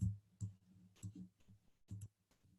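A computer mouse clicking, about six crisp separate clicks spaced unevenly, close and quiet against near silence, with no talk.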